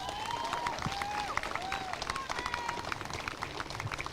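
Crowd at a women's Australian rules football grand final day applauding the team in a dense, sustained patter of clapping, with cheers and whistles rising above it.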